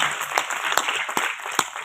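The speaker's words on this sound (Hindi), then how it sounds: "तालियां बजा दीजिए ना" An audience at a Hindi poets' gathering gives brief applause: a short burst of scattered, distinct claps over a soft room murmur, with sharper individual hand slaps standing out.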